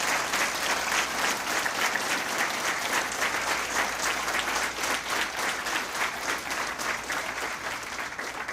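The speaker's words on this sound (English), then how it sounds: "Go ahead, round of applause, yeah." Audience at a fire department recruit graduation ceremony applauding, a dense, steady wash of many hands clapping that carries on without letup, loud and close, with no voices standing out.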